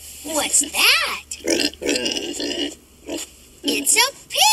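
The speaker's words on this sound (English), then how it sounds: "It's a pig." A Fisher-Price farm toy plays a pig's oinking and grunting, mixed in among a lively, high-pitched voice that talks almost continuously over short bursts of sound.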